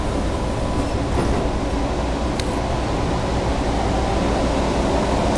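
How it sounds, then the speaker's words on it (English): A subway train rumbles steadily as it departs, with a dense, continuous low roar and a few faint clanks. "Please hold on. This train is departing."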